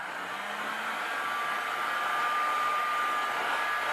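Heat tool blowing hot air onto a decorative resin moulding, a continuous steady hiss and whir with a faint high tone, alone and fairly quiet throughout.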